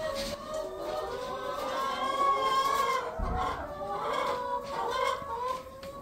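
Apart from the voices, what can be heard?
laying hens clucking inside a henhouse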